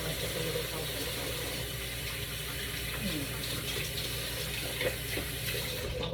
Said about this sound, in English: So I'm gonna wash my hands. And while I'm washing my hands